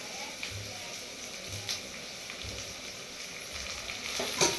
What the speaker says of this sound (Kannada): ಅವನ್ನೆಲ್ಲ ಹಾಕಿ ಸ್ವಲ್ಪ ಫ್ರೈ ಆಗತ್ತೆ